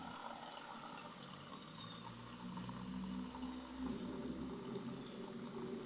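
Hot water pours from a home water dispenser into a container, a soft, quiet trickling stream that swells slightly partway through.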